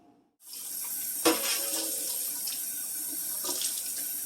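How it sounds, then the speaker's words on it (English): A knife is rinsed under a running kitchen tap, with a steady close hiss of flowing water and brief splashy changes as the blade moves through the stream. "Give the knife a quick rinse."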